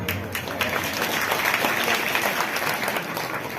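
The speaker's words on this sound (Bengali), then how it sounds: "আমার মনে হয় আপনারা নিজেদের জন্য নিজেরা একটা হাততালি দিন" An audience at a folk-music celebration honouring the folk poet Bijoy Sarkar applauds loudly and steadily, a dense, continuous wash of many hands clapping together with no voices on top.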